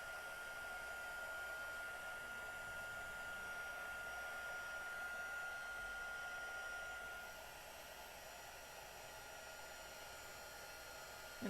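A warmed-up heat tool blows steadily to dry a second coat on cardstock for a tile backsplash technique, producing a constant, even whooshing hum that softens a little partway through, with no voices.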